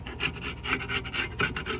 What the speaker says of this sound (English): I'm just going to go ahead and scrape off this old gasket.